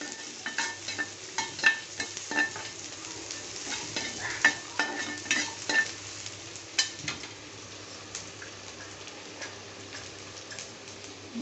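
Curry leaves frying in a pan for vegetable pulao, stirred with a utensil in quick clicking scrapes and taps over a low sizzle; the stirring thins out toward the end, close and without speech.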